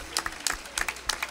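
Scattered, distinct handclaps from a church congregation during a service, a handful of quiet claps spaced unevenly over a moment with no voices.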